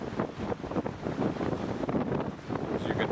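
Strong gusts buffet the microphone on a coastal hiking trail near Ushuaia in Tierra del Fuego, with a loud, continuous rumble that surges and fades and no voices.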